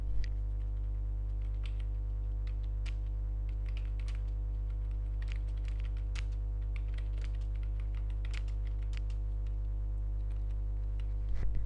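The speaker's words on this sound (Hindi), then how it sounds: "तो आप यहाँ पे नरेशन टाइप करोगे।" Fingers tap a computer keyboard steadily while entering text, quick light clicks spread across the span over a loud constant mains hum.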